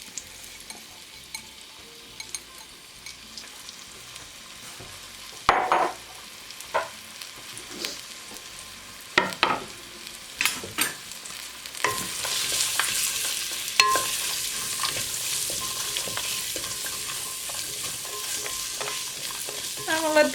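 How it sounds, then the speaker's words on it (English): Onions dropped into hot oil for butternut squash soup, starting with quiet kitchen rustling before sharp clatters and a swelling, steady sizzle with occasional stirring scrapes, close and without talk. "And in that, I'm going to add my onions."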